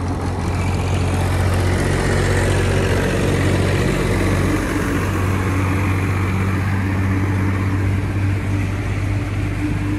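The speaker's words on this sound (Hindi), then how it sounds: "पीछे ट्रैक्टर है, चलते" A tractor engine runs behind riders on an Indian road, making a continuous loud, low rumbling drone with steady wind noise for the whole stretch and no clear speech.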